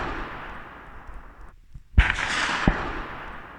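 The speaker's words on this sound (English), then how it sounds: "the listener that is getting shot at will first hear the bullet crack and then the actual" A supersonic rifle bullet's sharp crack bursts in abruptly after a brief near-silence, followed moments later by a second, duller report of the gunshot, set against a hissing, noisy background.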